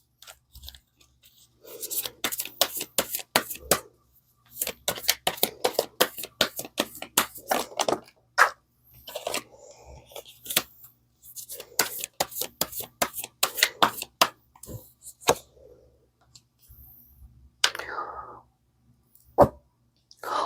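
Tarot cards are shuffled by hand in bursts of rapid, papery riffling and flicking, close and crisp, separated by short quiet gaps, with no talking.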